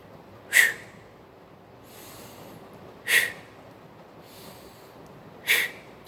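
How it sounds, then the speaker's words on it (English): Three sharp inhalations through the nose, evenly spaced a few seconds apart, each a short close hissing sniff, with faint softer breaths between them. "So I would breathe in through my nose"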